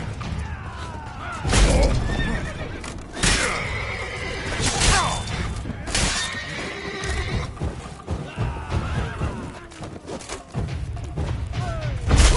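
Horses neigh and whinny repeatedly in a PS4 video game, several loud calls rising over clopping hooves and thuds, no talk.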